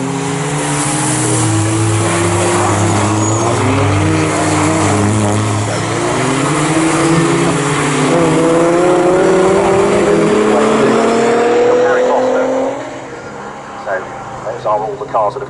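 Race cars at the BRSCC Clubsport Trophy race at Snetterton circuit roar past continuously, their engine notes rising and falling under a commentator's voice, before the noise drops away near the end.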